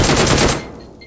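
Rapid, loud gunfire bursts from a video game shotgun, about half a second of close, repeated blasts, then a fading tail with faint background tones.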